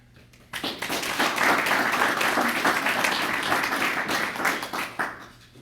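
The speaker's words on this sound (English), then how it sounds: "So please give a round of applause to all those people that helped to make this come to earth" A church congregation at St Thomas UCC applauds, quiet at first, then erupting into a dense, sustained round of clapping that tapers off gradually over the last second.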